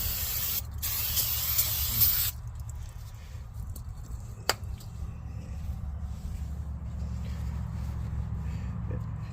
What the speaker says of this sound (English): I just sit here and kind of spray it down pretty good like this.